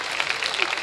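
Audience applause at a Haryanvi comedy poetry show, a short dense burst of clapping from the crowd with a voice faintly underneath.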